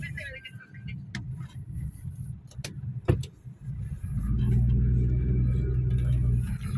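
During a driving test, a car pulls forward, its engine rising to a steady, close rumble in the second half after quieter moments with a few clicks and knocks. Someone talks throughout.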